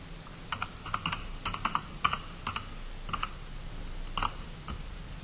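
Irregular bursts of computer keyboard typing while a name is entered for a tile on a page, clicks close and moderately loud in quick clusters with short pauses, no voices.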